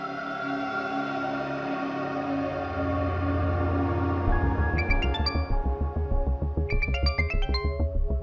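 Electronic phone ringtone for an incoming call, a sustained synth tone giving way to a repeating bright melodic pattern with a steady beat, clear and fairly loud.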